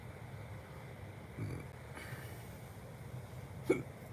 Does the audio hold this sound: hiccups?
yes